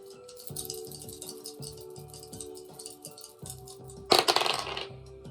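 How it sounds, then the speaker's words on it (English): Dice tumble and clatter across a surface in one brief, bright rattle near the end, heard over soft steady background music. "Let's lead with the dice."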